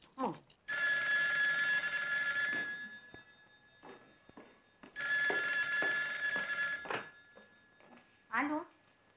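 A telephone rings in two long electronic bursts separated by a pause, loud and close, while people talk quietly between and after the rings.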